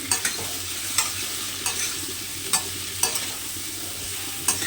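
Ginger stirred and fried in oil for an egg curry: a constant sizzle close up, punctuated every second or so by a sharp clink or scrape of the spatula against the pan.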